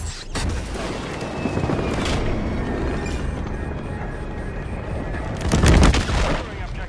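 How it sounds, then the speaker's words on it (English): A bombing run in Modern Warfare 3, with a clustered fusillade of blasts and rumbling booms building toward a heavy near impact late on, while voices speak over the chaos. "Bombing run is inbound. Danger close."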